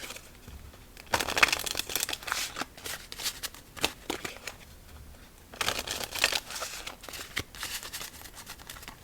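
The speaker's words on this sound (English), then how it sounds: "Let's go 3 more shuffles and then we will begin" A deck of playing cards is shuffled close up in repeated riffling bursts, crisp crackling flurries separated by short pauses, with no talking.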